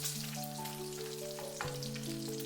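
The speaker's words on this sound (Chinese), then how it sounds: "把鸡蛋的2面都煎至金黄" Eggs frying in a pan until both sides turn golden, a steady close sizzle throughout with a soft tonal hum beneath and one brief scrape partway through, no talking.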